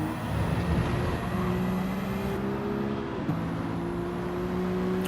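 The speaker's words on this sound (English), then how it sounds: "You can hear them having to feather the throttles around here." Small RC cars at a racing night, their throttles feathered around a corner on a loose track. A continuous close electric whine wavers and dips in pitch, with overlapping motor tones rising and falling.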